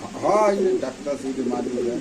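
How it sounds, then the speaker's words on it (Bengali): Lahori pigeons coo in throaty, repeated rolls close by at a bustling pigeon market, with people talking alongside. "এখানে আছে এগারো নম্বর কবুতর কাছে একদম লাহোরি কবুতর"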